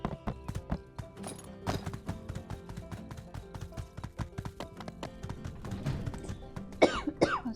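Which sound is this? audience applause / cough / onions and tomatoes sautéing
cough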